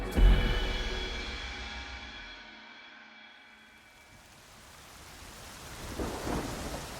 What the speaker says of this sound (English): As heavy rain shrouds the deepening night, soldiers are posted to block all routes out of the area.